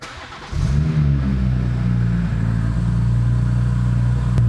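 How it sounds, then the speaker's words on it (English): A BMW B58 engine cranks and catches after a brief quiet moment, then settles into a loud, steady idle close by, with no talking. "Now after we completed that, we're going to start our engine."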